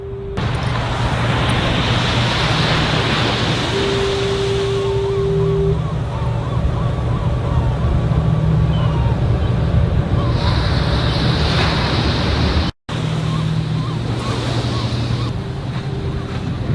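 Ocean surf rolls steadily onto a Washington beach, a loud continuous wash of breaking waves with heavy wind buffeting the microphone and a faint tonal hum running underneath.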